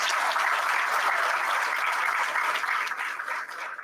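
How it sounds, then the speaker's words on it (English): Steady, dense applause from a large audience at a college welcome function, holding even and loud before thinning slightly near the end, with no talk over it. "Give a big round of applause to all your parents."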